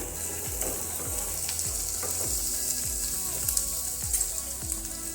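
Bell pepper is stirred into onions frying in a pan, giving a steady sizzle under a string of rhythmic scraping strokes from a spatula, close and even throughout.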